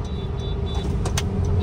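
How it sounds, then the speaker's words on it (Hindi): A car is parked in an Indian street near a bank, with a steady engine rumble and low road noise close by and a faint brief whine, no talk. "मैं इधर गाड़ी पार्क कर लेता हूँ।"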